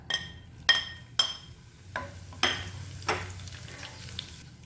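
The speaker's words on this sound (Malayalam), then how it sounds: "ഇതേപോലെ തന്നെ കറിവേപ്പിലയും ഫ്രൈ ചെയ്തെടുക്കാം" Curry leaves fry in hot oil for Tattukada-style chicken fry, with a soft constant sizzle under several sharp metallic clinks and scrapes from a utensil against the pan.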